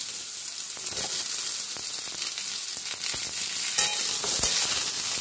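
Sweet potato frying with pointed gourd (potol) and potato in a pan for chapor ghonto, a steady close sizzle with scattered crackles and occasional stirring scrapes throughout, no talking.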